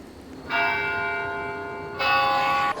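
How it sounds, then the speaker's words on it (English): Church bell tolling in the Left 4 Dead video game, two loud, ringing strikes with rich sustained harmonics, the first lasting about a second and a half before the second rings out. "I'm gonna ring this bell."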